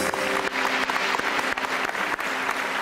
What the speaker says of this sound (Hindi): एक बार आमिर भाई के लिए तालियां